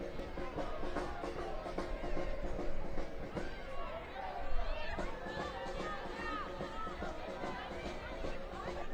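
A crowd at a USL Super League women's soccer match between Tampa Bay Sun FC and Lexington SC murmurs and chatters in a steady stadium hubbub, with occasional shouts and a brief swell, under a commentator's ongoing talk.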